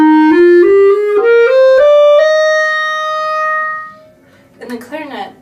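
A clarinet in its middle register plays a short rising line of clear, bright notes, then a long sustained note that fades. A person begins talking right after.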